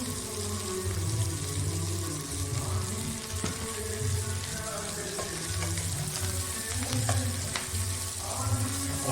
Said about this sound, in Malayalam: ആ വെളുത്തുള്ളി ഒരു 2-3 സെക്കൻഡ് ഇളക്കിയാൽ മതി.